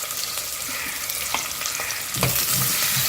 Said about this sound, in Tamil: ஒரு கொத்து கருவேப்பிலை போட்டுக்கிறேன் ஒரே ஒரு பச்சை மிளகா ரெண்டாக பேர் வச்சு தான் போட்டுக்கிறேன்